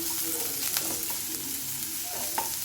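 Onions sautéing in a pan for a prawn curry, a steady close sizzle and fry with occasional soft stirring scrapes, no talking.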